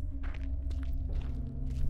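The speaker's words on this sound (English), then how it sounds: "I hear footsteps." Footsteps in the video game Wick, a handful of soft, irregular steps over a low steady hum, faint and close, with no talking.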